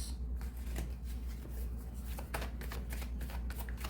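Tarot cards from a Sword and Light Angel deck are shuffled and drawn in a row of quick papery flicks and riffles, close and fairly quiet over a low steady hum.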